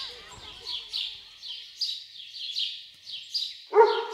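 A Krotos Studio Pro ambience preset blends chirping birds in a quick repeating twitter with a single dog bark at the end, while someone talks over it.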